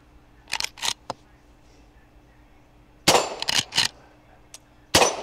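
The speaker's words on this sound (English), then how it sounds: "Now let's put 10 more rounds of 38 Special into this Rossi R92." A Rossi R92 lever-action rifle fires 38 Special rounds outdoors: a few sharp, close reports in irregular clusters, separated by quiet gaps and trailed by brief mechanical clacks from cycling the action.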